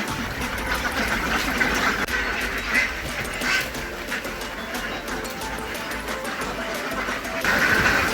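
Domestic ducks (itik) at a duck farm in Pampanga, Philippines, making a steady mass of busy chatter and quacking across the whole stretch, with some rustling and people's voices mixed in near the end.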